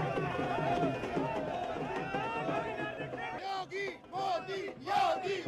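Political rally crowd in Delhi chanting slogans for Modi and Yogi, a dense massed roar of voices throughout with rhythmic shouted bursts near the end.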